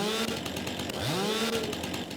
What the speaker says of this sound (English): I always took out the chainsaw.